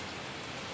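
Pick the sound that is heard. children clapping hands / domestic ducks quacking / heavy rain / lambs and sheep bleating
heavy rain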